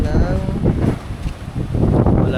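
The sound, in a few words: strong typhoon wind outside apartment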